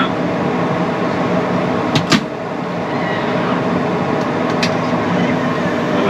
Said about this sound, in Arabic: سكرون الباب.